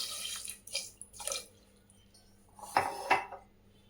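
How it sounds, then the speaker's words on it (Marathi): Several clinking scrapes of a spoon against a pan while stirring sugar syrup, in short bursts separated by quiet pauses, with a faint wet bubbling texture. "आता हे आपल्याला सतत ढवळत राहायचं आहे"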